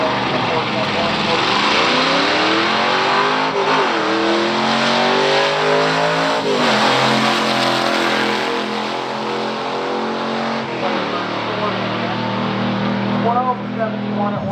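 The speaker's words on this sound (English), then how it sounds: "Chuck Lombardi, Cumberland, Rhode Island, 73 Firebird SD455, up against 10 Rival out of Warren" Stock drag race between a 1973 Pontiac Firebird SD455 and a Rival, loud V8 engines revving and climbing through repeated gear shifts, sweeping pitches rising and dropping as the cars pull away, with an announcer talking over the run.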